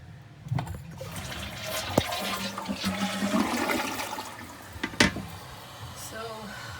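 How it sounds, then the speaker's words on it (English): Water runs steadily from a bathroom toilet knob, a continuous rushing hiss with a few sharp knocks and clicks, while a person talks over it. "apparently somebody turned the knob to make the water come out."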